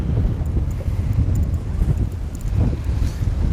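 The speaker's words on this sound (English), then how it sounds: "But the wind is not conducive for that right now." Gusty wind buffeting the microphone beside a river during a fly-fishing outing, a loud, continuous low rumble that swells and eases in waves, with no voices.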